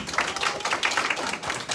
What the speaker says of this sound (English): A clap for you.